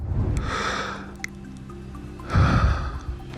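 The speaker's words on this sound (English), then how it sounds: "a tweet that contained nothing but the sound of him breathing" A man breathes close to the microphone in two slow cycles, each a soft hissing breath a couple of seconds apart, with a faint click between them in an otherwise quiet room.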